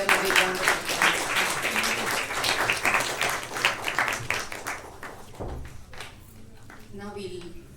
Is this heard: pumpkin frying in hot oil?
no